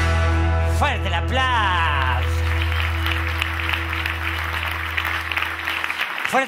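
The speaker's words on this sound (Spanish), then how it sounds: "¡Fuerte el aplauso que tan mala no era!" An audience at a live stage show breaks into loud, sustained applause after a brief voice at the start, the clapping filling the room until it drops away at the end.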